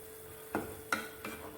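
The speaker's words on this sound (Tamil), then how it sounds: "கொஞ்சம் கொஞ்சமாக போட்டு அப்படியே கிண்டிக்கிட்டே இருக்கணும்." Semolina for rava upma is stirred in a pan over low heat, producing three separate scraping strokes at an even pace against a faint background hum, close by and fairly quiet.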